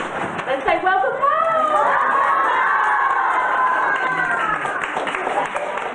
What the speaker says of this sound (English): Surrounded by the sound of applause